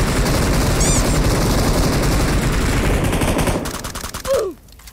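Rapid, continuous machine gun fire in a shooter video game rattles loudly for several seconds, then cuts off and gives way to a few short, fainter sounds.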